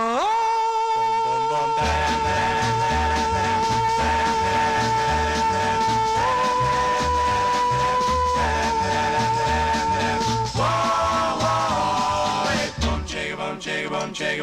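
A 1961 doo-wop record plays with lead and harmony vocals over a bouncing bass line and steady band backing, full and continuous with no talk over it.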